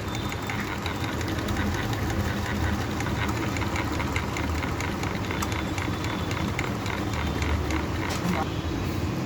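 A high-speed table fan coil winding machine runs steadily, giving a continuous, loud mechanical whir and rattle with a fast, even rhythm that holds without pause throughout.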